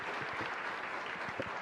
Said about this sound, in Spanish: Fuerte aplauso entonces para todos los que hoy estamos presentes aquí.